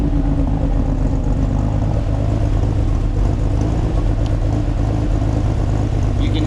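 A car engine idles after an exhaust repair, a steady, loud low rumble close by with a slight stumble in its running, no voices over it.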